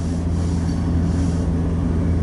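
Freight train with a mid-train DPU locomotive rolling past at dusk in Fremont, Nebraska, a loud steady rumble of railcars with faint wheel squeal throughout.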